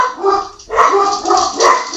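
Dog barking up close and loud, three or four strained, whiny barks in quick succession, with no talk.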